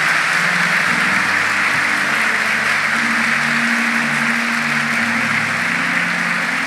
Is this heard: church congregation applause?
yes